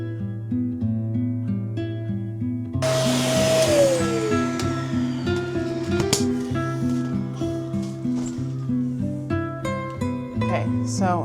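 A vacuum cleaner drones steadily while cleaning out a laser engraver, a loud close motor hum with a rising whine and scraping, sucking bursts as the nozzle moves through debris.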